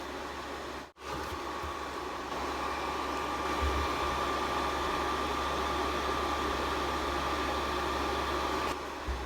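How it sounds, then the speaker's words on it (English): A PS3 console fan runs at full speed in self-cleaning mode. It gives a loud, steady, rushing whoosh with a low hum underneath that holds almost unchanged throughout, apart from a brief dropout near the start. "That is loud. That is a jet engine right there."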